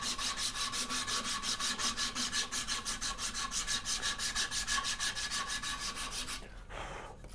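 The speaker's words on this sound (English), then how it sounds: "for these rounded sections, this is phenomenal. I can really get a smooth surface on there" Bow sander rubbing back and forth along rounded wooden sections of a handmade turning saw, a steady rhythmic rasping stroke repeated about five times a second, close and continuous for six seconds before stopping.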